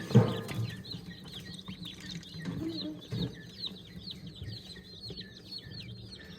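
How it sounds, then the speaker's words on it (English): Many ducklings chirp and peep in a steady, busy chorus, with a few louder thumps and rustles close by. "These are my ducks. They've been out here peeping."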